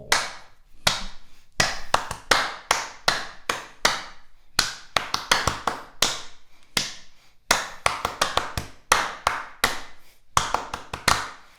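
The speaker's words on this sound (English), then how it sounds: "Shall I keep a beat / pulse going and you clap some rhythms for me" Hands clap rhythmic patterns against a steady tapped pulse, sharp close claps in repeating groups with short pauses between phrases, no talking over them.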